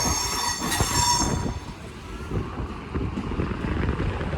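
A train moves through Bologna central station in Italy, with metallic wheel squeal and a high screech fading out after the first second or two, then a rolling rumble of railcars, heard close with some wind buffeting on the microphone.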